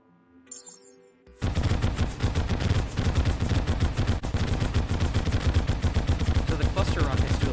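Cluster rockets from Terraria fire in a fast, dense barrage of sharp blasts that start suddenly after a short lull with softer game tones and then hammer on nonstop, loud and close.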